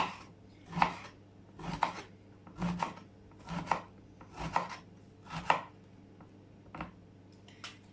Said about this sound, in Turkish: Sebzelerimi de şöyle doğruyorum. Hepsini yuvarlak yuvarlak doğruyorum.